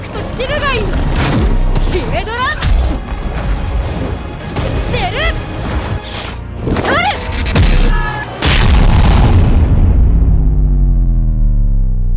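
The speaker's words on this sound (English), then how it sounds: "Quetzalcoatl unleashes two of her strongest attacks back to back, and they do not disappoint." Anime battle effects for Quetzalcoatl's strongest attacks, with voices shouting over whooshes and impacts, then a loud explosive blast near the end that fades into a long rumbling decay.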